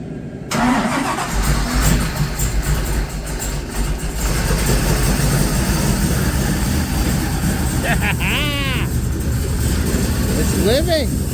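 A supercharged 1955 Chevy engine cranks, catches and settles into a steady, loud idle that runs on throughout, with brief voices chirping over the rumble near the end.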